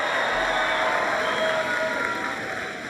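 Audience applause and cheering at a political speech on homeowner policy, a steady wash of clapping from a large crowd that stays dense throughout and tapers only slightly near the end.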